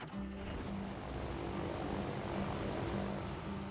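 Propeller aeroplane flying past in the video game Poly Bridge 2, a steady droning engine hum with a low tonal buzz that holds level throughout, no voices over it.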